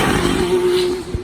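Mercedes-AMG One limited edition hypercar engine emitting a steady, loud tonal whine with a rough low rumble underneath, held for about a second before a short low thump at the end.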